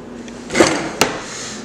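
A kitchen drawer in a college cook's kitchen slides open with a rough scrape and then shuts with a sharp knock, two close, distinct sounds a moment apart.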